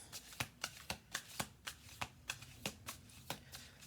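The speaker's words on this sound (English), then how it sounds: "I'm going to give this 2 more shuffle throughs" Tarot cards being shuffled indoors in a steady, even rhythm, about ten crisp riffling bursts, close and fairly quiet, with no talking.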